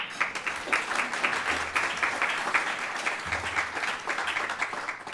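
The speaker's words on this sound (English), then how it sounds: "Please give her a round of applause." Audience applause at a civic club's annual meeting, a steady, even patter of many hands clapping that holds for about five seconds at moderate volume without talk.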